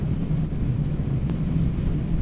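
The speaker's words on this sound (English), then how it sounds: "Still bloody windy." Steady low rumble of wind buffeting the microphone on the Isle of Arran, constant and fairly loud, with no voices.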